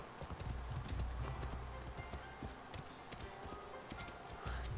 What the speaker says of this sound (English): Man, this horse is decked out in armor.